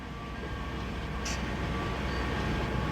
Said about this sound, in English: Maybe I ought to stay right here in this freight train.